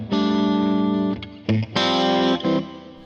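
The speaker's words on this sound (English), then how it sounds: "Next is another chorus reverb." A Zoom Studio 1204 effects unit runs a chorus reverb patch over sustained, shimmering distorted tones, with short breaks between held notes and a lush wet tail on each.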